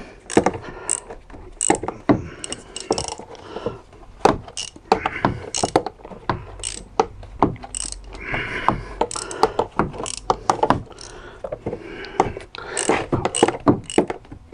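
Ratcheting wrench clicks in quick, uneven bursts while loosening a part during an oil change on a Peugeot 207 1.4 HDi, close and fairly loud, with scrapes and knocks of metal between strokes and no talking.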